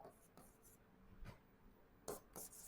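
A teacher writing notes on a board during a physics lesson, a few faint scratchy strokes in short bursts, quiet and close, with no talk.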